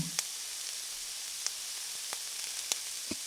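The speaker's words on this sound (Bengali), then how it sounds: "দু তিনটে দারচিনির টুকরো ও এলাচ দিয়ে তেলের সঙ্গে মশলাগুলো হালকা ভেজে নেব লাল করে" Cinnamon sticks and cardamom pods frying in oil for a sweet raw mango pickle give off a steady soft sizzle, with a few sharp crackles and spits popping out of the hiss.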